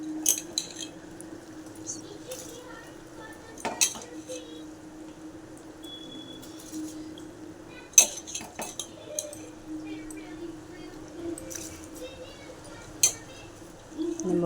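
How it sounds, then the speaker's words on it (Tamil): Soaked rice goes into a pot little by little for chicken biryani: soft scraping and rustling with a few sharp metallic clinks of a utensil against the pot spaced several seconds apart, otherwise fairly quiet. "இப்போ கொஞ்சம் கொஞ்சமாக அரிசி போடணும்"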